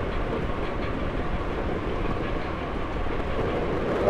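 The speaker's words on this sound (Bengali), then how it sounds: "একটা ট্রেনের সাথে আমার দেখা হয়েই গেল।" Panchagarh Express, bound from Panchagarh for Dhaka, rumbles past at speed as a steady broadband roar with a clickety-clack of wheels on the rails, close and continuous for the whole stretch.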